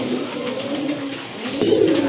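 Bombay pigeons coo in a low, throaty murmur, close by, with a louder burst of cooing near the end and no voices.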